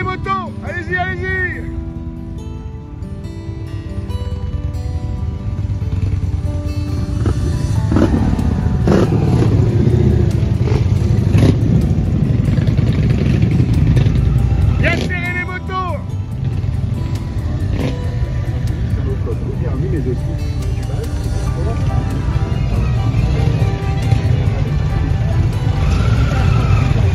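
Motorcycles racing past at a 2023 season event, engines roaring loud and continuous with rising and falling passes, under excited shouting voices.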